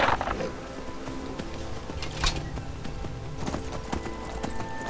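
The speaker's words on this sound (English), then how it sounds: "And ride my horse across the countryside to go to the silly cave." Rapid, steady hoofbeats of a horse galloping across the countryside in the Skyrim video game, loud and continuous over a dense layer of game ambience.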